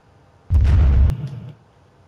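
A single booming explosion from a cinematic transition effect in the PS4 ShareFactory editor, a sudden loud burst that holds for about half a second, then a fading rumbling tail that dies out over the next half second.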